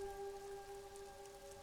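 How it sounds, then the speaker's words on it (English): Steady rain falls in the video game Disco Elysium, a soft continuous hiss, with sustained musical tones droning underneath and no voices. "Rain falls onto the roof of a woodshed."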